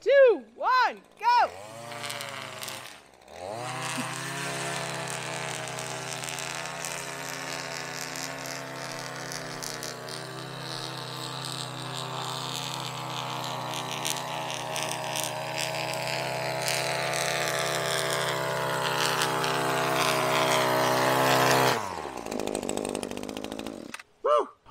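String trimmer edging along a lawn: a small engine revs up after a short countdown and runs loud and steady for about eighteen seconds, then cuts off. Voices are heard briefly at the start and end.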